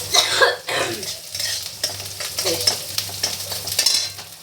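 Garlic and black cumin fry in a pan, a close sizzling crackle broken by scrapes and taps of a stirring utensil against the metal, with irregular bursts of activity and no talking.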